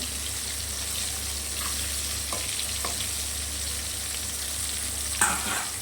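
Pieces of katla fish fry in an oil-filled pan, giving a constant, even sizzling hiss with a few faint clicks and one small clatter near the end.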